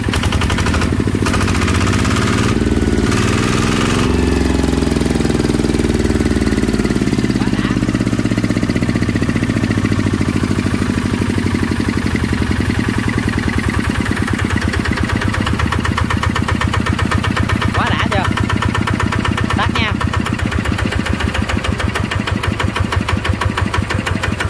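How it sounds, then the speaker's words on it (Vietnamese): Kubota E1250 diesel engine, a Japanese-made single-cylinder farm engine, runs close and loud, revving hard in a few bursts early on, then settles into a steady rapid chugging idle for the rest. "Nẹt ca lớn cho cả nhà mình nghe chơi nha"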